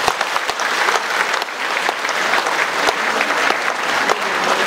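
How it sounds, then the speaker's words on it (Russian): A concert hall audience at a 2015 gala concert of the "Play, Garmon!" accordion festival claps in sustained, thick applause that stays loud and even throughout. "Еще раз ваши аплодисменты."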